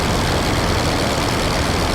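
A Nieuport 17 engine idles during a shallow landing approach in the flight simulator Rise of Flight, a steady, loud, continuous low drone with no change in pitch or rhythm and no voices.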